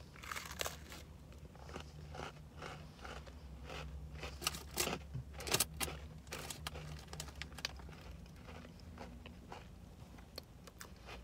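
A packet of Oreo cookies is torn and opened by hand, a run of crisp crinkling and tearing bursts close up, uneven in rhythm, with no talk over it.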